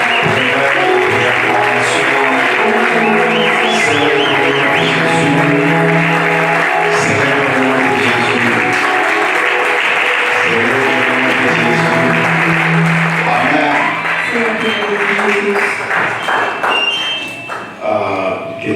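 A church congregation applauds the Lord Jesus at a worship service, loud sustained clapping mixed with thumps and sung or shouted voices, fading slightly toward the end.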